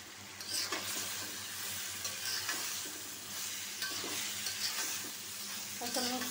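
Boiled taro frying with shrimp in a pan, a loud continuous sizzle broken by repeated scraping stirs of a spatula, with no one speaking.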